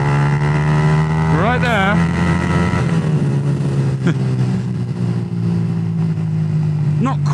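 A Yamaha MT15 150cc motorcycle engine hums steadily on Bangkok streets, with a quick rising rev near the start and someone talking over the constant drone.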